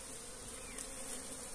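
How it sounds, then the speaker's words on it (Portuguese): Africanized honey bees gathering pollen from licuri palm blossoms, a continuous faint buzzing drone of many insects heard alone outdoors. "Nesse momento as abelhas africanas estão fazendo a coleta do pólen."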